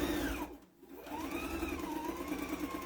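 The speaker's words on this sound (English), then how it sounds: "And you sew 1/4 inch all the way around." A sewing machine with a walking foot stitches a thick quilted fabric silverware holder. It makes a close, steady motor whir with a rapid needle rhythm, briefly slowing and dipping near the start before running smoothly again.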